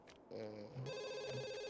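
A telephone rings in The Sims 2 video game: a short, clear electronic ringtone with a bright tonal chime, heard alone at moderate volume.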